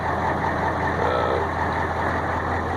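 An International medium-duty truck with a MaxxForce engine, started after sitting parked in the woods for six years, idles steadily and smoothly with a continuous low rumble, close by and alone, no voices over it.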